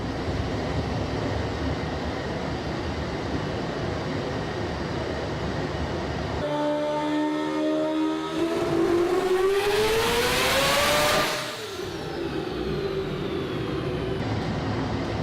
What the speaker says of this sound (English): Burnouts on the dyno.